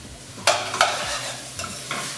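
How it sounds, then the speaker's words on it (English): Cooked chickpeas being stirred into a sizzling Punjabi chana masala curry sauce, with a few sharp scraping strokes of the spoon over a steady close frying hiss. "So now let's go ahead and add in our chickpeas, our cooked chickpeas. Give it another stir."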